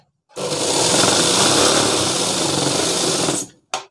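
A sewing machine runs a straight seam on a shirt pocket, its close, loud, even mechanical whir holding steady for about three seconds before stopping, followed by a brief second burst.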